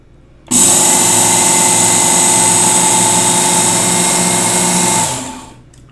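A Work Sharp Ken Onion MK2 power knife sharpener grinds a knife blade, starting abruptly into a loud, steady high-pitched whine with a buzzing motor beneath, holding for about four and a half seconds before winding down.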